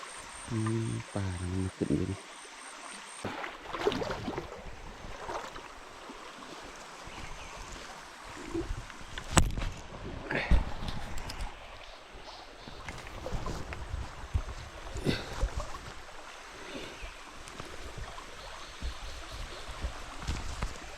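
River water rushes steadily and continuously, with a few louder surges over the broad wash of the current. No voices.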